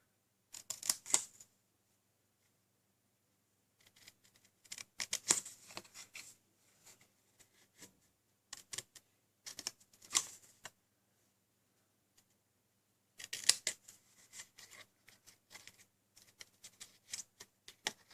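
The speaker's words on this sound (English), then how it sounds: "I'm going to cut these out now." Scissors cut out paper card pieces for a handmade shadow box card, heard as quiet, crisp snipping in intermittent bursts separated by silent pauses.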